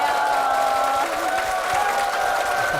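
A crowd applauds and cheers at the opening of a church broadcast in a Korean studio setting, a dense continuous clatter of clapping with a faint tonal hum underneath.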